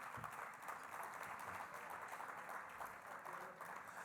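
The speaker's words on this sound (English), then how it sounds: "Let's give all of our black legislators here a big hand." Applause at a luncheon for legislators, a continuous faint patter of clapping from a distant crowd with no speech over it.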